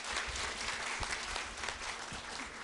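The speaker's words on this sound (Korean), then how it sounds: "박수로 환영해 주시면 감사하겠습니다" At a Jongno district talk concert, an indoor audience gives a speaker a welcoming round of applause, a soft, steady patter of many hands clapping at some distance. No voices are heard over it.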